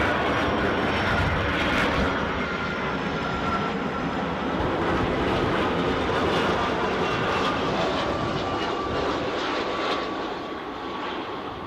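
A Swiss airliner in special livery landing at Edinburgh airport, a loud, steady jet roar that holds for about ten seconds and eases slightly at the end, with no voices over it.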